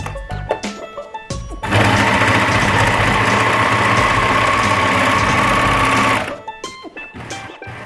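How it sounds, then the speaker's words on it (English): A domestic sewing machine runs in one steady, loud burst of about four seconds while stitching along the edge of trouser fabric, with quieter handling clicks before and after. "I'm gonna stitch right there with the normal machine just to make sure that it'll stay in place."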